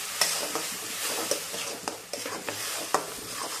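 Masala paste for rajma curry being stirred and sautéed in a pan over low heat, with a constant sizzle broken by several sharp spoon scrapes, close up and with no voices.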